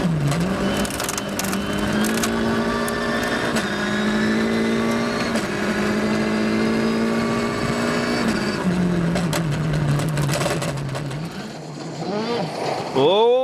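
WRC rally car on a wet stage in Spain races past, its engine droning high and steady and climbing through gears, then fading off with tyre and road noise.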